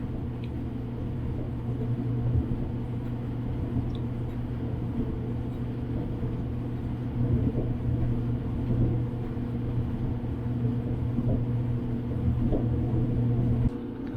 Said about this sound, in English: This is a Whirlpool clothes dryer